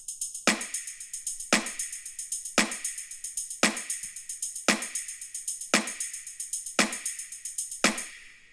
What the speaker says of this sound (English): we want to move on to the tambourine loop